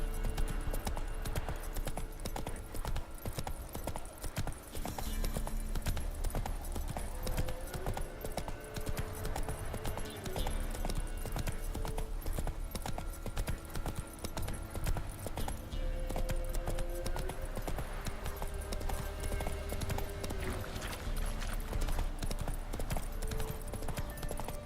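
Roach the horse moving along in The Witcher 3, hooves clip-clopping in a continuous rhythm under steady ambient game sound and music, fairly even in loudness throughout.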